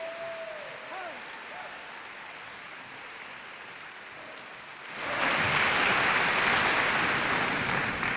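Crowd applause for an anthem singer at an opening day event erupts suddenly partway through, a dense broad wash of clapping that follows a quieter stretch with a faint voice.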